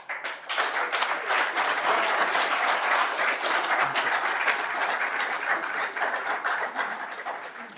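Applause in a council committee meeting right after an item passes: a fairly soft but continuous crackle of many hands clapping, steady throughout and fading slightly at the end, with no talk over it.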